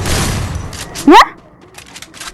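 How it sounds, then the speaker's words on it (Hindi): Shotgun fire from an M1887-X in the video game Free Fire, one sharp loud blast in the middle of steady game noise, with a voice speaking over the background. "अबे 3 बार फायर हो रही है।"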